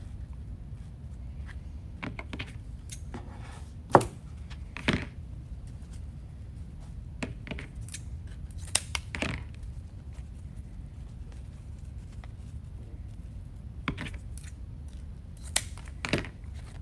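Scissors cut through deco mesh and ribbon for a Mardi Gras wreath, giving scattered sharp snips and crisp clicks at irregular intervals over a quiet room hum. No one speaks.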